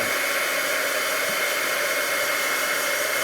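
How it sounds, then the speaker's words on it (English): A heat tool blows a steady, loud, unbroken whoosh of hot air across freshly stamped ink on a paper card, running alone from start to finish. "I think I'm going to add just a little bit of heat to this just to dry it"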